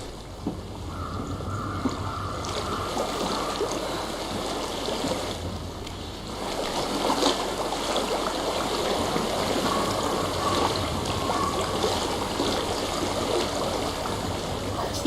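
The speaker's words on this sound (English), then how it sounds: "I hear water." A stream flows steadily in Hellblade: Senua's Sacrifice, a continuous rushing wash of running water heard close and even, with a brief dip midway and no voices.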